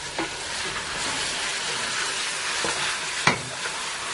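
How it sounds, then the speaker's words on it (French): Onions stirred with a wooden spoon in a hot pan for melouria, a steady sizzle with scraping strokes and one sharp knock against the pan near the end, close up and without talk. "Tu mets les oignons, que j'ai dit 3 fois. Et tu remues avec une cuillère en bois."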